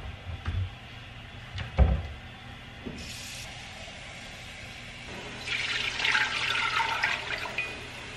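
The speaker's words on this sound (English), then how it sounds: "I'm gonna fill this up with 6 cups of water and get this bad boy going." Water running into a Dutch oven pot from a tap, filling steadily in the second half, preceded by a few knocks and clatter in a home kitchen.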